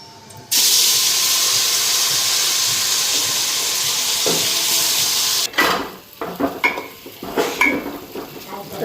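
Mung dal tipped into a hot pan sets off a loud, steady hiss of sizzling oil for about five seconds, then gives way to clinking utensil and stirring sounds against the pan.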